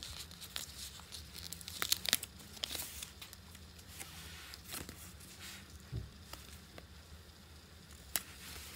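Stickers are pulled out of toy packaging for a Minnie Mouse travel bag set, making close, irregular tearing and crinkling of paper and plastic with sharp little rips between softer rustles.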